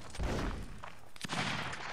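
Musket volleys crack out in a Napoleonic Wars battle in the Mount & Blade game, several overlapping shots in a quick burst, loud and booming over a continuous background din.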